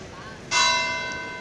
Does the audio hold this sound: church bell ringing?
yes